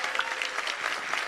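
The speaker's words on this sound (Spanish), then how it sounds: "Les pido un aplauso para Juan" A crowd at a book fair in Chile applauds Juan Grabois with a short burst of continuous, moderately loud clapping that has slight swells and no voices over it.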